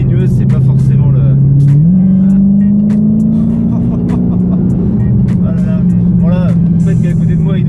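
A 2016 Dodge Challenger Hellcat rumbles along a small winding road at low speed, its deep engine drone steady and loud, rising slightly in pitch and then easing back, with faint clicks and rustles on top.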